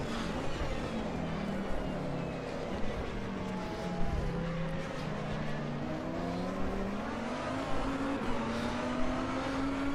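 Historical endurance race car engine in the video game Automobilista 2, a steady loud drone that rises and falls in pitch as the car accelerates and shifts, continuous throughout without talk.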